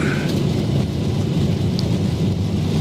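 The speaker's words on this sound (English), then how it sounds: "Oh, look, here comes some rain." Steady rain hisses and rumbles outside a Boeing 737-800 cockpit in the X-Plane 12 flight simulator on a Portland to Seattle flight, a continuous dense wash of sound with no talking.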